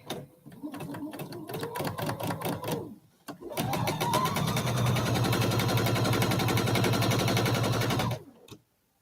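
A sewing machine stitches through a quilt block in a rapid, regular needle rhythm: a short run, then a pause, then a longer steady burst before it stops, heard close and loud.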